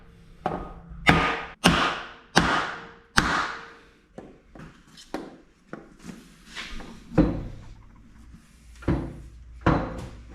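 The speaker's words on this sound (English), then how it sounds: "I hear vehicle doors." Vehicle doors near a 1945 John Deere B tractor being restored in a workshop, a string of sharp thuds and knocks, several loud ones early and softer irregular ones after, with no talking.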